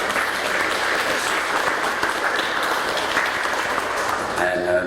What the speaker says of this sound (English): give yourselves a round of applause simply for being here